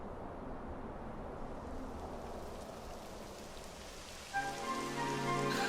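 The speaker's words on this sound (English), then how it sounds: "It would have to go and start raining, wouldn't it?" Steady rain pattering on surfaces in Dragon Quest XI S, a dense continuous hiss throughout, with a musical tone entering near the end.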